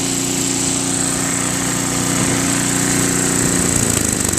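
A Craftsman 522 snow blower with a Tecumseh engine idles steadily and loudly up close, a constant buzzing drone without talk that shifts slightly in pitch near the end.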